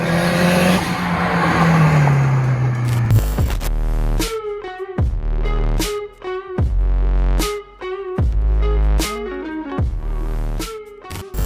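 A high-revving Mazda single-rotor engine in a speedster screams past, then shifts up through several gears in quick bursts, loud and close, with a tire squeal early on.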